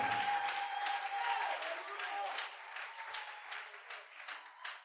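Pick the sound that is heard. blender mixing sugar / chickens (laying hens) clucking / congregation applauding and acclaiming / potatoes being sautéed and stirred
congregation applauding and acclaiming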